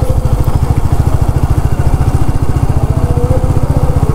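A motorcycle engine running close and loud, a steady rapid thumping pulse like an idle or low-speed run, unbroken throughout.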